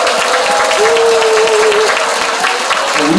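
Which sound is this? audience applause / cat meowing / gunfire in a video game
audience applause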